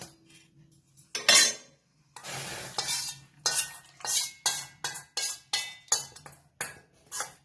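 Khandvi batter being stirred steadily in a pan over very low gas, with a spoon scraping and clinking in a quick repeated rhythm, close and fairly loud, after a brief pause near the start.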